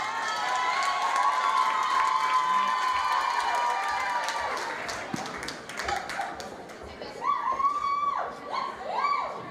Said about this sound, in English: give them a better round of applause than that.